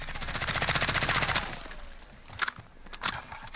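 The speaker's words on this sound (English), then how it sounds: "Let it rip at full auto with me controlling the recoil." A full-auto burst from an AAC Honey Badger rifle in Call of Duty Modern Warfare, a fast rattling string of shots lasting about a second and a half, then a few scattered quieter clicks and knocks.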